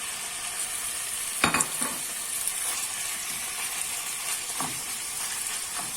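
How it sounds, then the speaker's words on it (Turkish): Meat searing in hot oil in a pan for Turkish hünkar beğendi, a steady close sizzle with a couple of brief louder stirring or scraping bursts. "Yağım ısındıktan sonra etleri ilk önce mühürleyeceğim."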